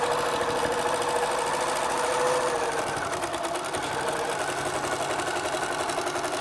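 A sewing machine runs continuously at steady speed, stitching straight across fabric in a loud, even mechanical whir with no pauses.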